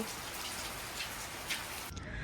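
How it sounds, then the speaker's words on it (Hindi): Heavy rain pours down with a dense, steady hiss of drops on surfaces, loud and close, then cuts off abruptly near the end. "बहुत बारिश हो रही है।"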